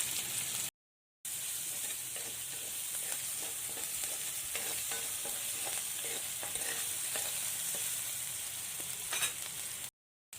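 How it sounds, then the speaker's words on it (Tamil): Sliced onions and green chilli sizzling and frying in a pan while a spoon stirs them in repeated scraping strokes, a steady close hiss with two short breaks where the sound cuts out. "ஒரு பச்சை மிளகாய் போட்டு நல்லா வதக்குங்க கொஞ்சம் உப்பு போடுங்க வெங்காயம் வதங்குறது"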